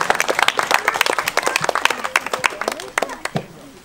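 An outdoor crowd applauds sculptor Sylvain Divot at the inauguration of sculptures in Nilvange, with lively individual claps close by that thin out and fade toward the end.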